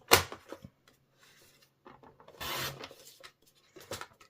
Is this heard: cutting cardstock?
yes